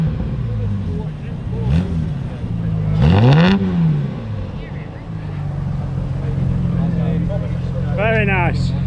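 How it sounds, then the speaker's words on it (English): Jaguar E-Type engine at a car show, idling then revved in a sharp rising-and-falling blip, with a second quicker rev near the end, close and loud under people talking. "we don't want to over rev a car at a show"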